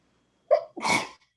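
A single close sneeze: a quick sharp intake followed by a loud explosive burst, then quiet.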